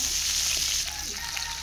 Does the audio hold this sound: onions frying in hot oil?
yes